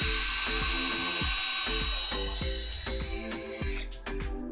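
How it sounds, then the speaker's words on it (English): A power drill pre-drilling holes in wood whirs steadily at close range, its motor pitch dipping in quick repeated pulses, then winding down near the end. "when I drill through, I'm not going to hit the concrete with my drill"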